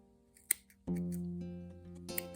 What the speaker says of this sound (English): You can always use a pair of scissors, just if it's nicely firmly felted, just to chop down that piece of felt